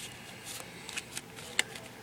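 Short bursts of playing cards being shuffled, soft riffling with a sharper snap near the end, close by with no talking.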